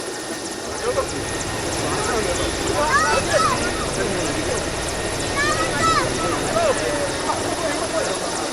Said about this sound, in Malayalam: ഹെലിപ്പാഡിൽ നിന്നും ഹെലികോപ്റ്റർ പറന്നുയരാൻ പോകുന്നത്